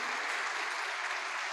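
A church congregation applauds during an online worship service, a steady, dense wash of clapping that holds evenly throughout, fairly close and without any voices over it.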